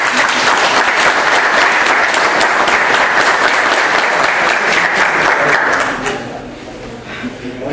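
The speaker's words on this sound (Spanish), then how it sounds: "les brindo un fuerte aplauso para todos ustedes" Strong, sustained applause fills a municipal ceremony for the full span, close and dense, then drops off abruptly near the end into quieter room sound.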